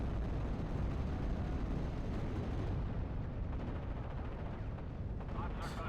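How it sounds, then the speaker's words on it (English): Artillery bombardment in Steel Division: Normandy 44, a WWII Normandy strategy game, rumbling as a dense, continuous wall of distant blasts and gunfire lasting the whole stretch, steady and heavy, with no voices. "already kind of freaking out from the artillery bombardment. I'm sending another one on them."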